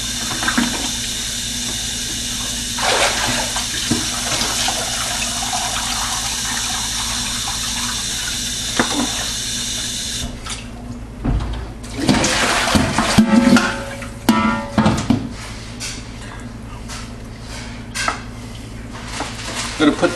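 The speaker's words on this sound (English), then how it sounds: "I'll give this a quick rinse." Tap water runs steadily over a partly frozen turkey for about ten seconds. It then gives way to irregular splashing, knocking and handling noises as the bird is rinsed and moved around.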